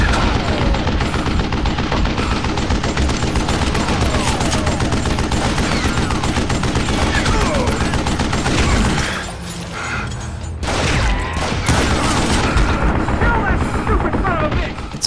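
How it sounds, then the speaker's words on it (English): Dense, continuous gunfire fills the Western shooter Gunslinger, a heavy fusillade of overlapping shots and Gatling gun bursts with a brief lull midway before the barrage resumes, a voice speaking over it. "a fusillade of bullets come raining down from on high"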